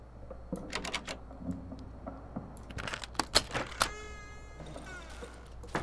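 Doors close during play of the survival horror game Darkwood, heard as a series of sharp, clattering knocks and creaks with a metallic rattle in between, fairly quiet and without talk.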